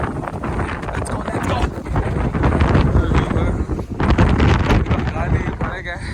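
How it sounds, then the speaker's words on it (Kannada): Strong wind buffeting the microphone on a bike ride from Bengaluru to Wayanad, a loud continuous roar and rumble, with voices partly under it. "ಗಾಳಿ ಹಿಂಗೆ ಹೊಡಿಯೋದು"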